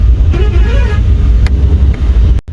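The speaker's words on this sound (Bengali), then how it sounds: "বাসটা পুরো সুপারফাস্ট ট্রেনের মতো ছুটছে।" A bus speeds along a hill road near Ooty, its engine rumbling loudly with heavy wind and road noise, and a short horn toot rises briefly above it.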